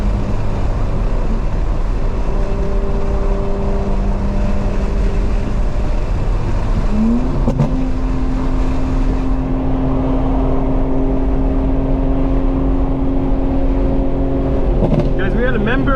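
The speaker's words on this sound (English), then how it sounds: "take fourth gear and rev up to the red line" A 900 hp 2025 BMW M4 Competition xDrive engine rev climbing in pitch partway through and then holding a sustained high drone, loud and close, over a constant rumbling cabin background.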